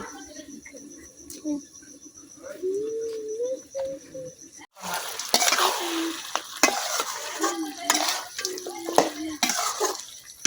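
Chicken pieces fry in a pan in a village kitchen and are stirred, giving sizzling and scraping bursts that turn busier partway through, with faint background chirps and a voice in the first seconds.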